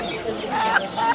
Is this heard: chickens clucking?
yes